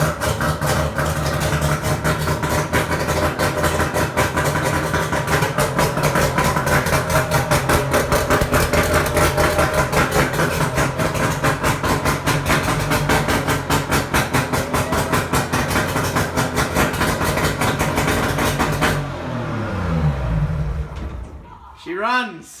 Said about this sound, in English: Alright, motor works.